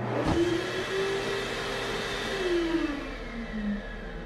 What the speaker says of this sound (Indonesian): terdengar suara pengering tangan yang sedang ngahyeng.